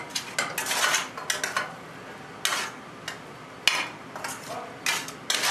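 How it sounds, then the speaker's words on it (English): Spoonfuls of seasoned, browned ground meat with caramelized onion go into a baking dish for shepherd's pie, giving a series of short metal-on-dish clinks and scrapes with quiet gaps between them, close and fairly light. "First into our dish goes the meat."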